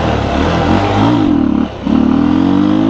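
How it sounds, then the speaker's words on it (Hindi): A motorcycle engine revs hard during a wheelie, loud and close, with a steady rising drone that dips briefly before climbing again. "we're going wheelie guys."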